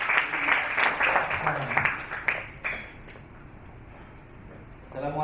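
An audience at a seminar on young people facing online hate speech before the 2024 election claps for a speaker. The close, lively applause lasts about two seconds, then tapers into a quiet room before a voice begins.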